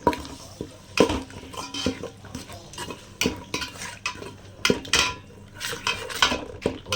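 Ginger and garlic sautéing in a pan for chicken curry, with a spoon repeatedly scraping and clanking against the metal over a soft sizzle in an irregular, busy rhythm, close and fairly loud.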